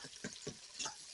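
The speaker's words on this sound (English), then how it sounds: "I'm going to put the onions in there first of all" Faint, soft crackling sizzle with a few stirring scrapes as onions are added to a hot Instant Pot, a brief quiet burst of frying close by.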